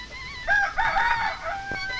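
A rooster crows once, a strained, wavering call rising then tailing off over about a second, fairly close and clear against a quiet background with a faint click near the end.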